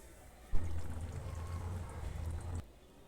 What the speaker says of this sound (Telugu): రెండు గ్లాసులు నీళ్ళు పోసి ఒక అరగంట ఉడకనివ్వాలండి.